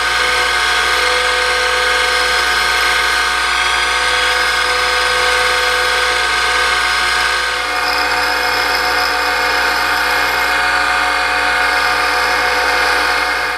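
Steel center punch pressed to a spinning grinding wheel, a loud continuous whine with a harsh grinding hiss, up close and unbroken, shifting slightly partway through, with no talking.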